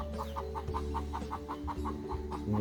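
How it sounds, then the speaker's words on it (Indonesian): Village chickens kept as livestock cluck in a quick, regular run of short calls, fairly faint under a steady low hum of background noise. "Itu adalah ayam, hewan ternak milik warga"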